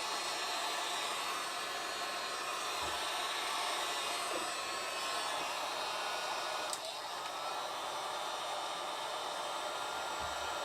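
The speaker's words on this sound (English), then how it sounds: "grab my heat gun" A heat gun blows steadily at close range, shrinking heat-shrink tubing over a wire joint while a Nissan Murano head unit is installed, giving an even, continuous hiss of rushing air with no talking.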